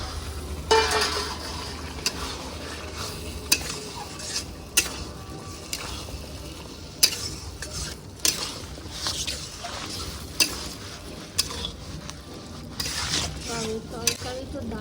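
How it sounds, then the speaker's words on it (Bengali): Potatoes stir-fried in gravy in a pan on a gas stove, with repeated sharp spatula scrapes and knocks against the pan over a low, steady sizzle, no talking. "আলু কষে নেবো গ্যাসের সামনে।"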